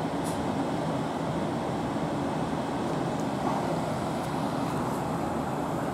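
A steady low rumble of a South Western Railway Class 450 train rolling past at Brookwood, continuous and fairly even, with a faint rhythmic rattle and no voices.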